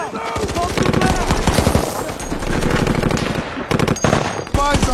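Dense war-film firefight from a Navy SEAL mission around a building: rapid machine-gun bursts and single gunshots crackle loudly and almost without pause, with a few sharp louder reports near the end.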